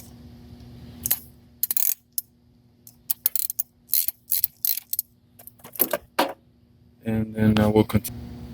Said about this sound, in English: So I'm moving the second bolt for the return hose for the power steering pump.